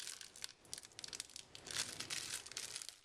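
Plastic packaging around henna powder crinkles and tears close to the microphone in a quiet room, with a run of irregular crackles and rips for about three seconds.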